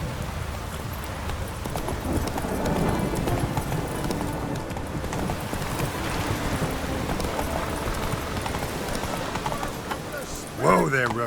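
A horse's hooves clip-clop steadily at a brisk pace in The Witcher 3, with a short whinny near the end, while voices and ambient game sounds play throughout.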